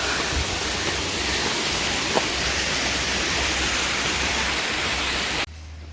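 Water rushes beside a mountain path at Girnar, a loud, steady, close wash of flowing water that holds constant before cutting off abruptly near the end.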